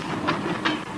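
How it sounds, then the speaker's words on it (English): A cartoon train rolls along with a steady rumble and hiss, marked by two brief rhythmic clacks close by. "See that train way over there?"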